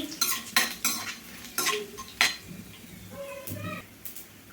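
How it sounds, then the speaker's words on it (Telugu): Cumin, garlic and dried red chillies temper in hot oil in a pan, with sharp metal clinks of a spoon against the pan over a faint sizzle, in short irregular bursts. "తాలింపు వేగాలండి"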